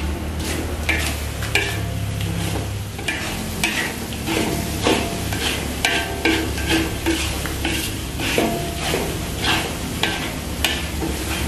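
Rendang spice paste is sautéed in a pan. Dense, loud, continuous sizzling runs under repeated scraping and stirring strokes from a utensil against the pan.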